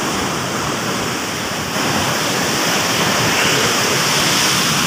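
Fast-flowing river water rushes at the Head Qadirabad barrage, a loud, steady, broadband roar that fills the scene continuously with no pauses.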